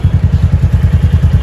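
Royal Enfield Bullet motorcycle engine idling close by, a steady low thumping pulse of about eight beats per second, loud and with no talk over it.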